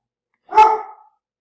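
One dog gives a single loud bark, close by and short, with silence on either side.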